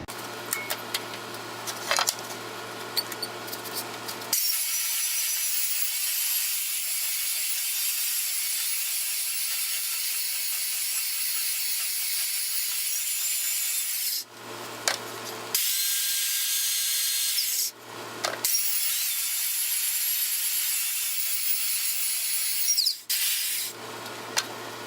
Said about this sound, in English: this belt sander is throwing a lot of dust in the air